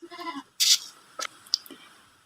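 Goats bleat in short bursts, a wavering call at the start followed by a sharp rustle and a few scattered brief cries, fairly close and alone.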